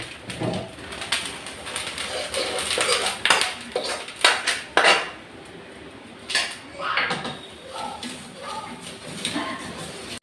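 Pots and utensils clatter as ingredients go into a pot of khichuri cooking on a rainy day, a run of uneven metallic clinks and scrapes close by, with faint bird cooing in the background.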